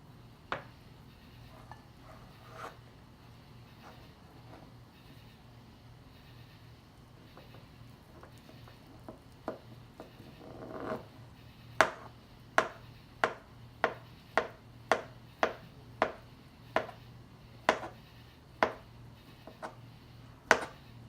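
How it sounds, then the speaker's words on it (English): Knife chopping cooked carrots on a cutting board for a Russian salad: a few scattered soft cuts at first, then a steady run of crisp, evenly spaced knocks on the board, close and clear with no talking. "I'm gonna demonstrate how I will cut each of them. Okay, so let's start with the carrots."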